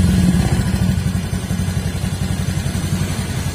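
A Honda Beat FI scooter engine runs close up with a rough, uneven low chug, stumbling and misfiring steadily rather than revving cleanly.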